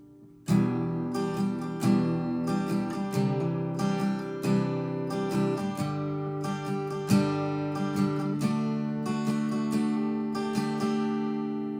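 An acoustic guitar strums through a chord progression with bright, ringing strokes at a steady pace, close and clear with no voices.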